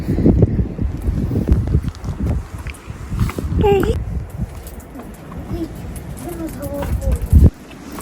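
Gusty wind buffets the microphone in uneven rumbling bursts while people talk nearby.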